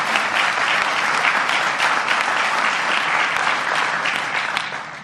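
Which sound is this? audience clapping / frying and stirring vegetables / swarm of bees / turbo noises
audience clapping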